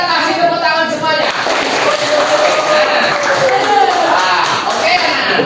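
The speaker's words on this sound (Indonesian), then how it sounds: "sudah semua kita kasih tepuk tangan semuanya" Students in a classroom at a Catholic school in Semarang applaud together in a dense, steady wash of clapping that fills the room, with voices mixing in underneath.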